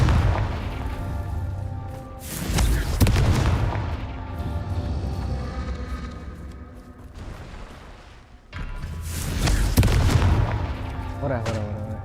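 Repeated Confringo fire-spell blasts in the game Hogwarts Legacy: loud booming bursts around 2–3 s and again near 9 s over a dense rumbling game soundscape, with someone talking intermittently.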